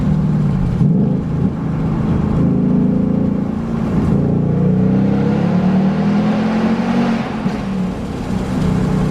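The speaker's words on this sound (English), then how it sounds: "so you guys can hear the exhaust under this bridge" A 2019 Ford Mustang Bullitt's loud exhaust drones and rises as the engine revs, the deep roar echoing and reverberating under a bridge, steady throughout.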